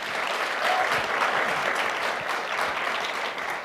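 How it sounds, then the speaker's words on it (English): Steady applause rises from the audience at a youth summit hall in Washington, D.C., a moderately loud wash of many hands clapping without a break. "can we give Kay a round of applause as well?"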